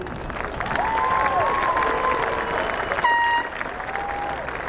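A large crowd at an outdoor high school graduation applauds steadily, broad sustained clapping with a few shrill whistles rising over it and faint cheering.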